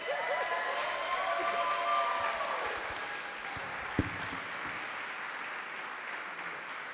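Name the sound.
wedding guests applauding after a toast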